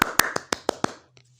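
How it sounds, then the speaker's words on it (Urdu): Claps ring out in a cartoon, six sharp evenly spaced slaps, fairly loud and close, that stop after about a second and leave near silence. "پھر راجا نے ببن کو شاباش دی جس پر سب نے تالیاں بجائیں"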